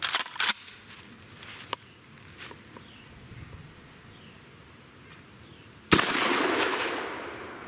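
A Keltec KS7 bullpup shotgun fires a 1 ounce slug outdoors, one sharp loud blast followed by a long rolling echo. Faint clicks and handling noises come first, and insects buzz quietly in the background.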